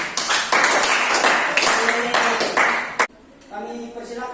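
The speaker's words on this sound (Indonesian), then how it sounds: "Berikan tepuk tangan" Students in an Indonesian vocational classroom clap for a group after its presentation, a burst of mixed applause lasting about three seconds that stops abruptly before a voice starts speaking.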